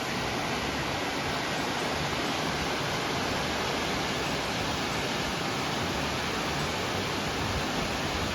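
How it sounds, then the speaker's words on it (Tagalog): A waterfall beside a mountain bike trail at Bass Lake roars as a steady, broad rushing wash of water that stays constant and close throughout, with no voices over it. "Wow, look at that. Waterfall."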